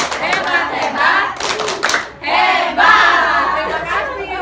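A group of mothers in a classroom-style session gives an enthusiastic round of applause, bursts of many hands clapping close by with cheering voices and chatter mixed in, pausing briefly before a second louder wave.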